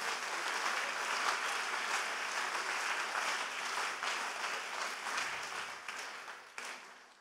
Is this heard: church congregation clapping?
yes